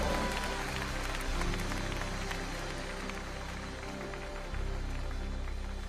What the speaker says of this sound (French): Let's clap unto the Lord.